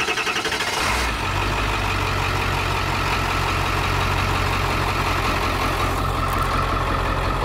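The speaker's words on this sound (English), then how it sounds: "That's what a truck is supposed to sound like." A 7.3 Power Stroke diesel in a converted ambulance truck idles outdoors, a rough, loud, continuous clattering rumble heard close up after a brief rattly start.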